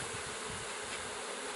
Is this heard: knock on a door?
no